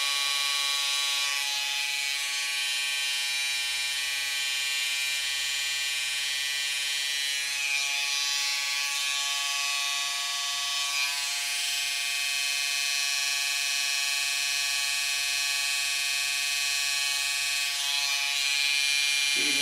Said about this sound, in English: Using just the edge of the trimmer to get the shape.